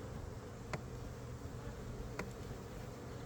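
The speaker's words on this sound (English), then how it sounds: "I'm gonna shake these bees off into the new box." Honey bees from a swarm colony buzzing around brood frames during a hive inspection, a dense steady drone filling the air up close, with a couple of faint clicks from handling the frames.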